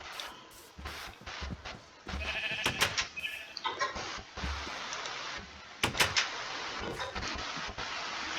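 Several short bleats from sheep in Minecraft, sharp and separate, with clicks and small thuds between them and no one talking.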